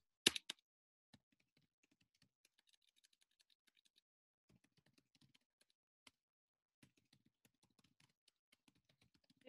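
Keys on a computer keyboard are tapped in quiet, irregular bursts, soft close clicks scattered across several seconds with short pauses between groups and a sharper cluster at the start.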